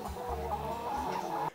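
Chickens at a poultry farm cluck softly in a short burst of low, repeated calls, heard faintly against quiet background noise.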